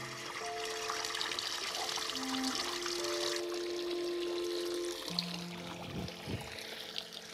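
Water trickles and pours steadily into a flooded rice paddy, a continuous soft gurgling flow that runs throughout without pause.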